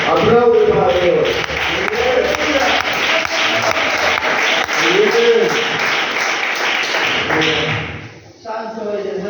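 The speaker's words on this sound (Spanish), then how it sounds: "Aplausos para Dios." A church congregation claps in a steady rhythm while voices sing or call out over it, loud and close, before the sound drops off briefly near the end.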